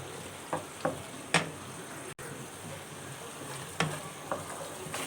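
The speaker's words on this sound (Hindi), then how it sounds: "अब मैं इसमें टमाटर ऐड कर रही हूँ और अच्छी तरह से मिक्स कर लेंगे।" Tomatoes being stirred and fried in a pan while cooking pea rice (matar pulao), a steady soft sizzle with several scraping stirs of a spoon, close and moderately quiet, with no talking.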